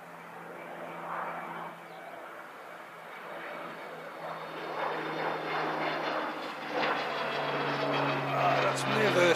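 An airplane taking off at Christchurch Airport, its engine roar building gradually from a moderate distance into a louder, steady rush over several seconds.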